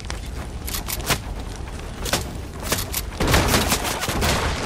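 Players trade gunfire in the Fortnite video game, with sharp shots and short bursts popping irregularly throughout, some louder and closer, and a denser volley toward the end.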